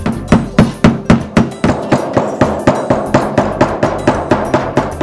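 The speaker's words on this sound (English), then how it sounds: "for the most part it's just mallet and chisel." Wooden mallet striking a chisel while carving a totem from local Engelmann spruce: a loud, close, steady rhythm of about three to four sharp knocks per second, each with a brief woody ring, continuing alone without speech.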